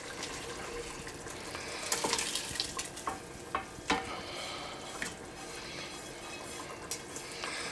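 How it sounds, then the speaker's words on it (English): Pork schnitzel pasta simmering in a pan on low heat, a faint steady bubbling hiss with occasional soft pops and clicks scattered throughout, no voices. "Just to sort of let it simmer."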